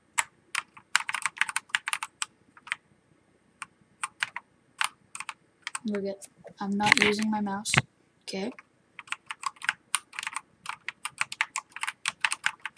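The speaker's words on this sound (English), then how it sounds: "And you hear me clicking the keyboard." Keys on a Pulsar Nova optical Pro keyboard click sharply at close range in quick bursts of typing. Someone speaks briefly partway through, and the clicking resumes after he stops.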